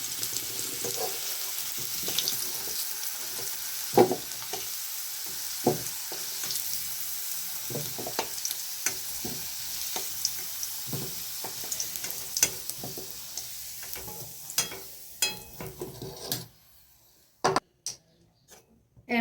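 Fried potatoes sizzle in hot oil, then are lifted out. A steady crackling hiss runs at close range with spatula scrapes and taps, then fades near the end, leaving a few sharp clinks.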